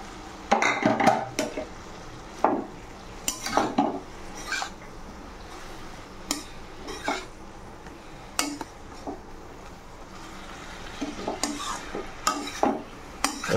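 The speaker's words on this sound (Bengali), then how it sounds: "চিড়াগুলো দিয়ে ভেজে নিতে হবে।" Soaked, drained flattened rice (chira) is stirred and fried in a pan. A utensil clinks and scrapes against the metal in irregular bursts over a faint background sizzle.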